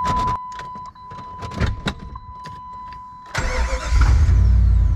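Clicks and mechanical whirring, then a 1998 Jeep Grand Cherokee ZJ engine cranks and catches, settling into a loud, rumbling idle close by.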